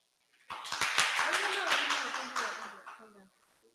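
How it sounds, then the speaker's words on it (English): At a political rally, an audience claps for several seconds, with dense applause that starts abruptly, swells quickly and tapers off near the end, while a voice speaks faintly beneath it. "Clap for the spear, don't clap for me."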